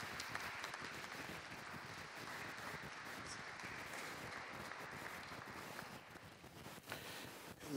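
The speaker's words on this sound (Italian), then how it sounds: "facciamo un altro applauso" Sustained audience applause at an Italian conference on art and politics, a steady dense wash of many hands clapping at moderate level for several seconds, tapering slightly near the end.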